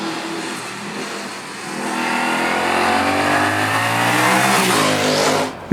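A 2021 Yamaha MT-07 motorcycle on a winding paved road revs steadily upward while riding, the engine note climbing in pitch and loudness over several seconds before easing off abruptly at the end.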